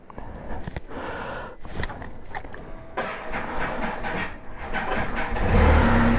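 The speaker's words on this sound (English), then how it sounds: "This is the coldest temps I've ever started the Spyder." A Can-Am Spyder starting in freezing cold weather, with rustling and clicks before the engine cranks and catches at the end, rising into a louder rumble.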